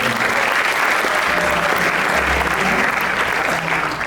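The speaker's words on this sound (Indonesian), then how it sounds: "Kita beri tepuk tangan untuk Tuhan." Loud, dense applause fills a youth seminar hall, a sustained wash of clapping from a large audience that stays level throughout, with faint voices underneath.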